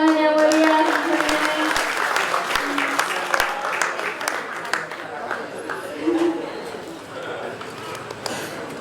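Audience applause at a gamelan solo exhibition, a lively round of clapping that starts strong and tapers off, with people chattering and a voice speaking through it.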